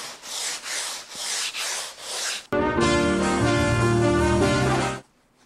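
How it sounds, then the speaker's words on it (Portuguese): Hand sanding soft wood along the grain: about six rhythmic back-and-forth rasping strokes, followed by a steadier, louder scraping pass with a tonal hum, then quiet. "a gente tem que começar lixando a madeira, sempre no sentido do veio da madeira"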